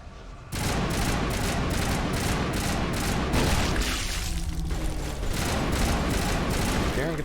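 Rapid gunfire from a weapon in the video game Mass Effect 1, a loud, dense, continuous burst of repeated shots with booming impacts, with a voice briefly mixed in.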